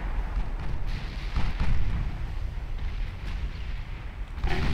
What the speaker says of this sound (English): Oriole taking quite a lot of fire there